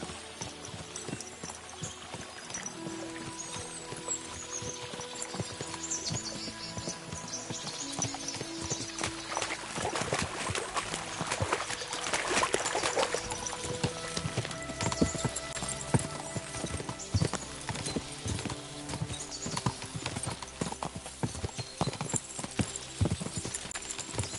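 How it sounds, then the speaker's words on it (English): Horses galloping after crossing a stream, rhythmic hoofbeats that grow denser and louder partway through, with a faint whinny amid the pounding. "we'll give the horses a gallop again."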